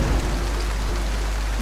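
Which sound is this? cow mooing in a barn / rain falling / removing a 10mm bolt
rain falling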